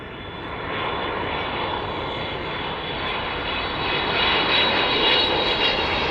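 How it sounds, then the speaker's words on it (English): A Boeing 777 airliner landing at East Midlands airport sends out a steady, broad jet roar that swells slightly louder as it passes, heard fairly close with no voices. "777 in this afternoon to East Midlands"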